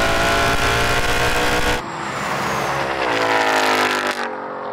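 A Mustang V8 and a BMW M2 launch in a drag race with loud, close engine roar, revs climbing in rising sweeps, then a brief drop at a gear change before pulling hard again.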